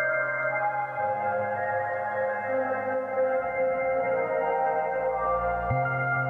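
Reverb pedal effect from a boutique unit such as Eventide, Empress, Strymon or Hologram, a lush sustained wash of layered tones swelling and shifting steadily for several seconds, loud and alone with no talking.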